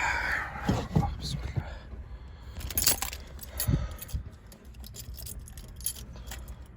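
Car keys jangle near the ignition of a Renault 9 as the key goes in, a few close metallic clinks and rattles, with someone speaking in the background.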